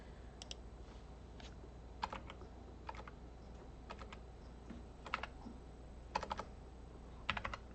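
Keys clatter on a computer keyboard while someone writes code, arriving in short, quiet bursts of clicks spread across the stretch over a steady low hum.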